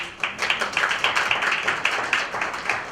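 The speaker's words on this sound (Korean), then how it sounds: "큰 박수로 환영해 주시기 바랍니다." Applause fills a Korean party's emergency expert meeting as guests are introduced, a steady crowd clapping with a distinct rhythmic pattern, moderately loud and with no speech over it.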